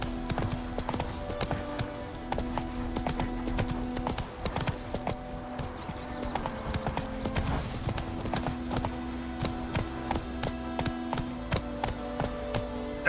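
Roach, Geralt's horse in the video game The Witcher 3, gallops with a steady, rapid clip-clop of hooves that continues throughout, over a background of ambient game music, with an occasional whinny.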